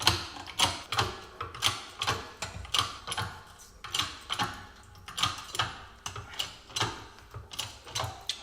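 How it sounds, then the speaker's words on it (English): A press works to push the bushing core out of a Jaguar S-Type lower control arm, giving a close series of about sixteen sharp ratcheting clicks at an even, steady pace, with no talking. "I'll try to press directly onto the bushing core."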